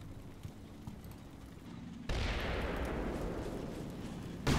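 Mortar fire in the video game Combat Mission Black Sea: a quiet stretch with a few faint thumps, then a sudden loud blast that rolls on as a heavy rumble, with another impact at the very end.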